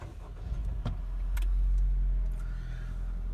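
A 2017-2020 Honda CR-V starting from inside the cabin: a brief starter click, then a low engine rumble swelling and settling into a steady idle, heard close with no talking.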